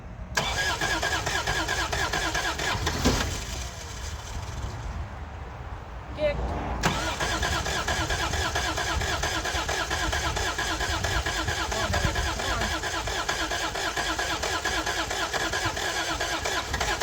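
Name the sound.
old Toyota pickup truck engine starting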